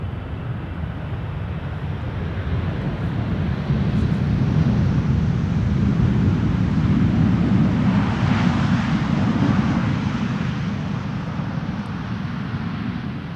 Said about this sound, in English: Let's see if we can spot that 747 then. Is it rolling already? Rolling, rolling, rolling.